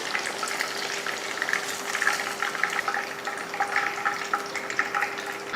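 Chicken leg pieces cook in a ground masala in a pan on the stove, a steady close sizzle and bubbling that runs on without pause and with no voices.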